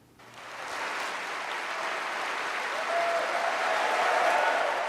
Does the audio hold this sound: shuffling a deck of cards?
no